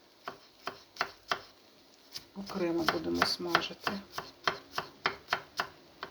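Garlic being finely chopped with a knife on a board, a steady run of sharp, close knocks with brief pauses, while someone talks over part of it.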